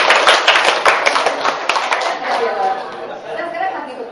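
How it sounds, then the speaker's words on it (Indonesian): A workshop audience of teachers clapping hands, a burst of close, rhythmic claps at first that thins out into scattered claps as chatter and voices carry on underneath. "Tepuk tangan buat."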